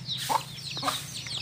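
Hens cluck in a rural village yard where goats graze nearby, with several short clucks close to the microphone over a low steady hum.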